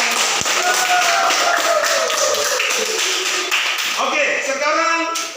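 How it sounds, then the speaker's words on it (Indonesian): A classroom of students claps hands together in a dense, steady round of applause that fades toward the end, with some voices mixed in. "kita berikan tepuk tangan"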